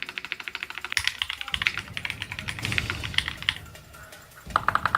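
A $300 computer keyboard typed on steadily for several seconds, giving crisp, closely spaced key clacks in an even rhythm. Near and clear, with a brief louder flurry midway and no speech.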